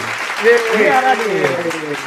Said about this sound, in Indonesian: beri tepuk tangan yang meriah untuk Pandu